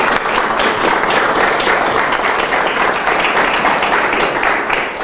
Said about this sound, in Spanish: Le damos la bienvenida y un fuerte aplauso.